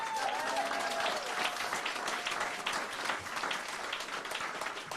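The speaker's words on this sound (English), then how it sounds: "You get applause for being alive." A crowd at an awards induction ceremony gives sustained applause, steady and fairly distant, with a voice briefly audible over it at the start.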